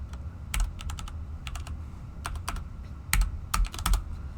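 Someone types a chat message on a computer keyboard, with close, irregular bursts of sharp key clicks over a low background hum and no talk.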